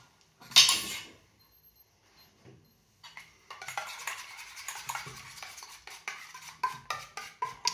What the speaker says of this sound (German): Wichtig ist, dass du viel rührst, damit die Klumpen raus sind.